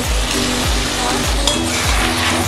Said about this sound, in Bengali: একই সাথে ভেজে রাখা চিংড়ি মাছগুলো দিয়ে দেবো।